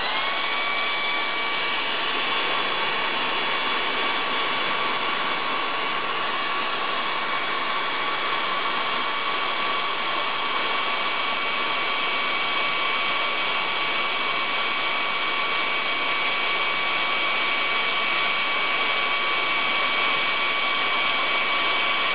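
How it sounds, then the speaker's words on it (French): A hair dryer runs continuously at full power under a ball, a loud, steady airy whoosh with a faint high whine throughout. "Nous allons placer le sèche-cheveux sous cette balle, puis nous allons l'allumer"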